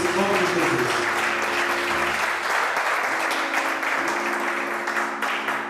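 Steady, loud applause from a church congregation fills the hall for several seconds, dense clapping continuing without pause with faint voices underneath.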